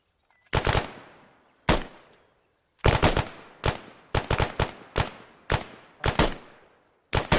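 A .50 caliber machine gun fires in a military video game, loud close bursts of rapid shots separated by short pauses, each burst ringing out with a sharp crack and trailing echo, no voices over it.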